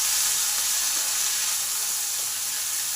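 Gime greens sizzling in a pan with onion and garlic, a steady, even frying hiss that holds at the same level throughout, with no talking.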